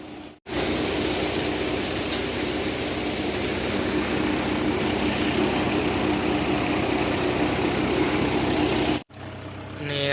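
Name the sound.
Mahindra tractor engine running an automatic cumin thresher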